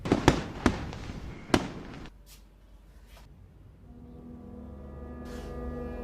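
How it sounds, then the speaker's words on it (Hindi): Sky shot fireworks burst a few times in quick succession, sharp loud cracks early on, followed by a quieter stretch with a low rumbling hum. "अब तो मन करता है आराम से छत पे लेट के आसमान में रंग बिरंगे स्काई शॉट देखो।"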